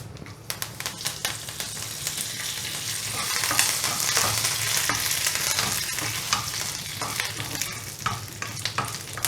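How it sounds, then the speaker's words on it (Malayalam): Curry leaves and urad dal fry in hot oil for chutney seasoning, making a dense, steady sizzle with crackles and stirring scrapes that rise slightly midway, close at hand. "ഇതിലേക്ക് നമുക്ക് കരിവേപ്പില ഇടാം"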